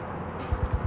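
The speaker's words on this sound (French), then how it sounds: "Il y a des bruits de pas juste au-dessus." In the tactical shooter Ready or Not, muffled footsteps thud from the floor above, four dull low steps in an even rhythm over a quiet room-tone background.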